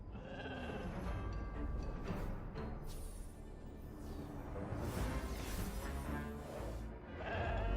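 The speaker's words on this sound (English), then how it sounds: "Ah, it's the slumber sheep!" Slumber sheep from the video game Infinity Nikki bleat over a dense, steady wash of game music and effects, with no talking.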